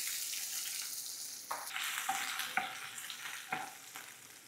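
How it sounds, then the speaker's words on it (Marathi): Soaked whole moong beans with mustard seeds, garlic, chilli powder, turmeric and asafoetida sautéing in a hot pan, a steady close sizzle and fry hiss with several scraping stirs, no talking. "आता हे छान परतून घेऊ"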